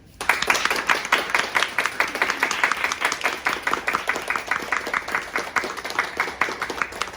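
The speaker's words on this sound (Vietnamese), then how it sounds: "So I think you all deserve a very warm hand of applause." Warm applause from an audience at a business talk by an Oriflame executive in Vietnam, a crowd of hands clapping in a fairly even rhythm, moderately loud and sustained throughout.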